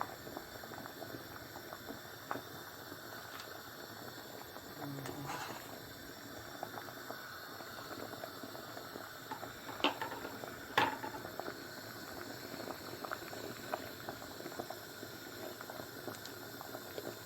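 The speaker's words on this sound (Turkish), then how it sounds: "Keşkeğimiz kaynadı." A pot of keşkek, a wheat and meat stew, boiling at a low steady bubble, faint and continuous, with a few soft clinks and knocks, no voices.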